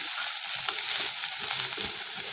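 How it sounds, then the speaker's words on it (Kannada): Grated coconut and split roasted chickpeas roasting in a pan give off a continuous dry sizzle and soft rustle as they are moved about, close and moderately loud with no voices. "ತೆಂಗಿನ ತುರಿ ಅಥವಾ ಹೋಳುಗಳು ಮತ್ತು ಒಂದು ಸ್ವಲ್ಪ ಸ್ವಲ್ಪ ಹುಡುಗಡ್ಲೆ ಒಂದು ಅಷ್ಟು ಇಷ್ಟನ್ನು ಒಂದು ಸ್ವಲ್ಪ ಚೆನ್ನಾಗಿ ಹುರ್ಕೊಳ್ಳೋಣ"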